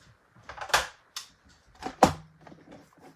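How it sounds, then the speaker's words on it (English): A paper trimmer slices a panel of paper in a card-crafting setting, giving a few sharp, close clicks and short scraping strokes with quiet pauses between them. "Now we're going to trim this."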